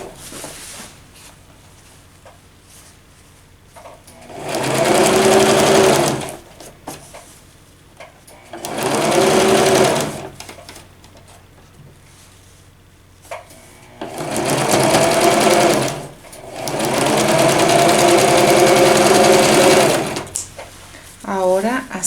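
A sewing machine stitches the neckline of a men's slim-fit vest in four bursts of steady, rapid whirring, with quiet pauses between them where a person speaks.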